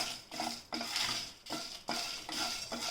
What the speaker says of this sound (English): So dry roast all these ingredients